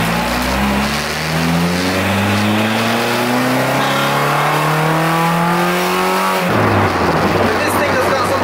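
A Honda Civic with a swapped K20a engine accelerating hard along country lanes, revs climbing steadily through a gear before a sharp drop at the shift, then pulling again, loud and close from inside the car.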